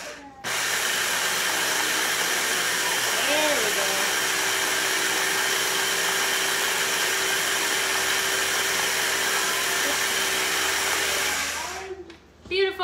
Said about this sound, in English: I've never actually whipped tofu like this before